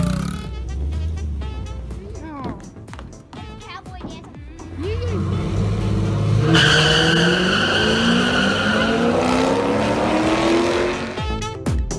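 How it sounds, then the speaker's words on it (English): A car drives along a Florida road on a beach trip, with a steady road and engine rumble through most of it and a swelling whoosh in the second half, while people talk inside. "This is us driving in Florida."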